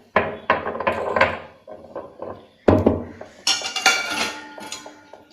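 Ginger pieces pounded in a small mortar, a string of close, hard knocking thuds with light clinks, some in quick bursts, with no talking.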